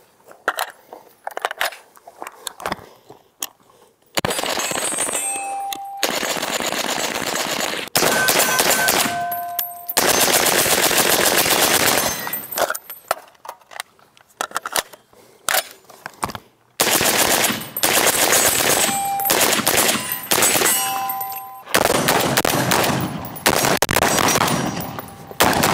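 An FN SCAR rifle fitted with a HUXWRX Flow 762 Ti titanium suppressor firing outdoors, with long rapid bursts and strings of shots separated by short pauses, plus metallic pings of steel targets.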